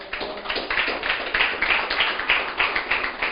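A church congregation applauds, a dense run of many hands clapping in uneven rhythm, moderately loud and without talk over it.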